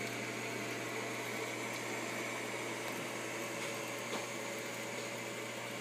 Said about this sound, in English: The pump is connected to this do-it-yourself float switch.